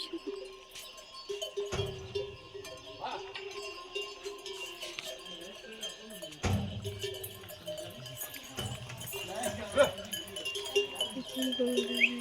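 Metallic cowbell clanks ring irregularly from cows, with bleating-like calls and outdoor noise throughout, voices briefly mixed in.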